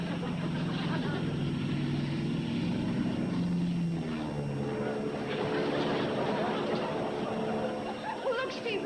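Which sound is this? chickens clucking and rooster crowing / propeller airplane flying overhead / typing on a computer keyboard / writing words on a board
propeller airplane flying overhead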